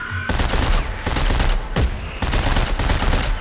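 Heavy automatic gunfire in Dead Space 3 co-op play, with loud, dense bursts of rapid shots broken by brief pauses, close and dominant throughout.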